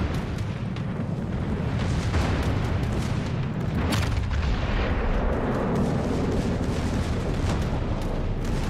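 Heavy naval gunfire in a World of Warships battle, a continuous barrage of deep booming salvos and rumbling blasts that fills the whole stretch, with one sharper loud crack partway through.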